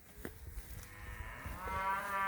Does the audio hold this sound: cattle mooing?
yes